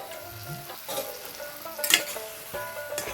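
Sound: chicken with salt and turmeric frying in a pan

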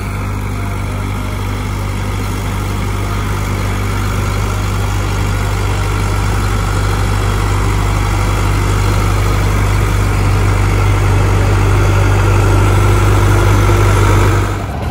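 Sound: tractor engine running a rotavator in a field

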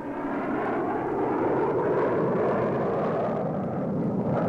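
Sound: fighter planes diving to attack

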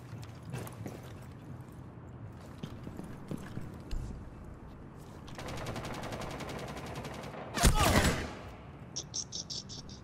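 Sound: gunfire in the video game Rainbow Six Siege

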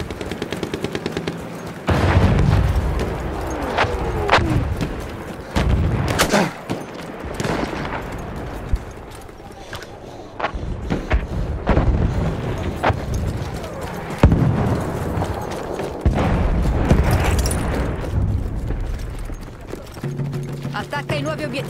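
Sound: enemy artillery fire in a war video game

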